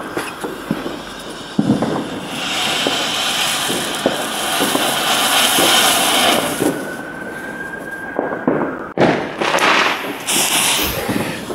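Fire Ants firework from an Asda Carnival of Colour selection box, a dense crackling, fizzing barrage lasting several seconds with sharp pops, heard outdoors at moderate distance, ending in a couple of louder bangs.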